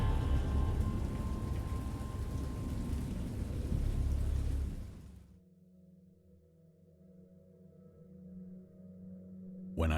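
A thunderstorm with heavy rain, a loud dense downpour and rumble for about five seconds that then cuts to a much quieter low tail before a sharp burst at the very end.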